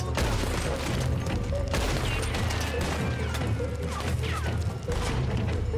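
Gunfire in Red Dead Redemption 2 rings out in several sharp shots and bursts over a dense, loud battle backdrop.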